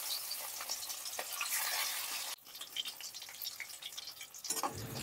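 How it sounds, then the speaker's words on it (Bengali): Rui fish frying in the oil left over from frying onions: a loud, close, dense sizzle that drops abruptly about halfway through to a lighter, uneven crackle and spatter. "বাকি তেলের মধ্যেই আমি মাছটা ভেজে নেব।"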